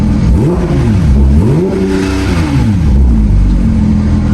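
Loud, close Porsche 992 GT3 engine revving repeatedly, pitch rising and bouncing off a soft limiter, then settling into a high steady drone.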